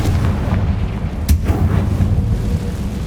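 Loud, dense booming blasts from Confringo and Bombarda spells in Hogwarts Legacy, a continuous rumbling barrage of explosions with a sharper burst partway through and no voices.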